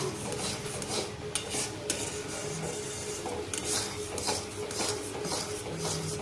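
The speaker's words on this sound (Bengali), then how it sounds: "এবার আমরা খুব ভালো করে তালের সাথে সুজিটাকে মিক্স করে নেবো" Semolina being stirred into cooked palm fruit pulp in a pan, a steady rasping scrape of spoon against metal that continues throughout, fairly close, with faint clinks and no talk.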